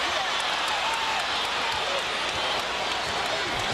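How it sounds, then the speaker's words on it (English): An arena crowd buzzes steadily at the Staples Center during a 2001 Lakers basketball game, a constant dense murmur of many voices with faint scattered claps and sneaker sounds. "You can hear the buzz in the crowd"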